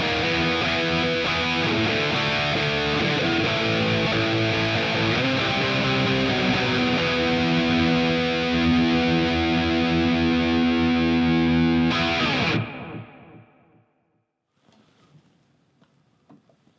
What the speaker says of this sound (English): Preset number 1, Pocket Master, is your basic heavy metal preset that I'm guessing a lot of younger guys would like.